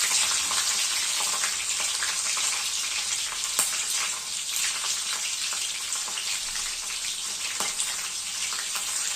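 Garlic and cut chillies frying in hot oil for a methi bhaji with crushed peanuts: a dense, continuous close sizzle with a few sharp pops and stirring clicks, no talking.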